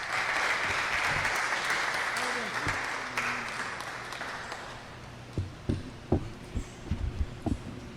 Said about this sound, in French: Je demande à l'assistant d'applaudir à nouveau, Dr. Gilles.